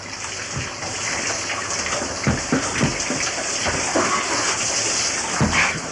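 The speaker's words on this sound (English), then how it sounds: "This is the second compulsory shower." A compulsory decontamination shower runs steadily after asbestos removal work, a continuous close hiss of spraying water with a few louder splashes and gushes breaking through.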